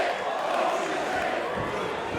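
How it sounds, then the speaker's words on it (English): A wrestling arena crowd roars and cheers in a dense, sustained wash of voices, loud and continuous throughout. "I'm gonna let this crowd speak for us for a second."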